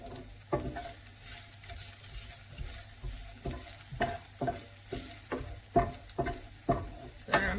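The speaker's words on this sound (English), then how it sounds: "So I'm just making sure the garlic is sort of spread around, otherwise it'll burn." Onion and garlic fry in a pan under a soft continuous sizzle, while a utensil scrapes and taps the pan in a steady stirring rhythm that grows more frequent toward the end.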